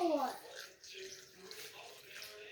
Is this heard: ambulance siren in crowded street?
no